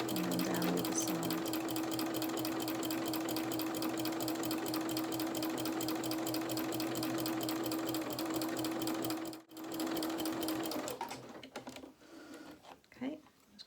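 A sewing machine runs in a long, steady, close whir while stitching doll dungarees, pausing briefly once and then stopping near the end, followed by faint handling sounds.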